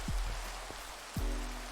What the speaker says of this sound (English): And this rain is kind of killing me